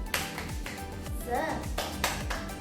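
A classroom of children claps together in a quick patterned cheer rhythm, sharp bursts of handclaps repeating over background chatter and voices.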